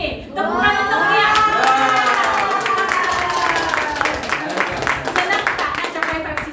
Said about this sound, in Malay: Tepukan untuk dia